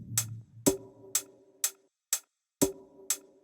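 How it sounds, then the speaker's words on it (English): Sparse offbeat sampled hi-hat hits with glue compression and the lows cut, dub techno percussion ticking in a crisp, even pattern alongside a soft low kick thump. "we have a very simple offbeat sampled hat here with some glue compression"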